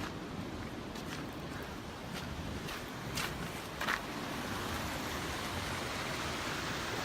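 Floodwater from a swollen river rushes steadily near a road, a broad, fairly faint wash of noise with a few brief scuffs or footsteps over it.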